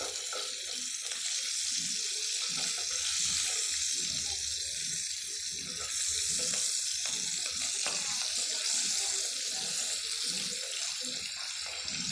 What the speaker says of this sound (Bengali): তাই ইলিশ মাছের মাথাগুলো সুন্দর করে ভেজে নিব